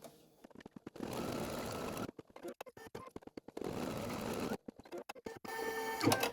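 An embroidery machine running an appliqué placement stitch, bursts of rapid mechanical needle chatter separated by short pauses and clicks, close and moderately quiet.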